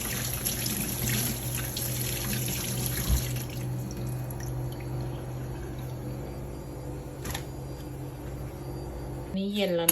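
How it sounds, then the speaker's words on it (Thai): Tap water runs steadily into a sink while salmon is cleaned, a constant close splashing hiss with occasional clunks and a handling noise near the end. "ทำความสะอาดปลา ก่อน"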